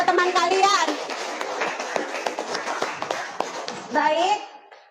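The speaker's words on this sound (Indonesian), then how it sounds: "Ayo tepuk tangan untuk kedua teman kalian." Schoolchildren in a classroom clap for two classmates after a presentation, a dense patter of applause with excited children's voices layered over it and brief chatter at the start and end.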